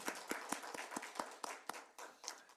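A church congregation at a Lent Sunday service claps in uneven, fairly quiet bursts, some sharp claps standing out, without voices over it.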